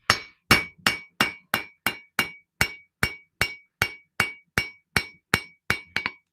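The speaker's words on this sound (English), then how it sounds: "We're just gonna forge a tang here" Hammer blows forging a custom knife tang on hot steel, about fifteen sharp ringing metallic strikes in a steady, evenly spaced rhythm, loud and close, each with a short bright ring-out.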